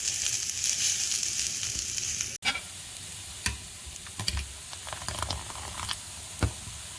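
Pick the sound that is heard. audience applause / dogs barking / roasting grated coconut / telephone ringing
roasting grated coconut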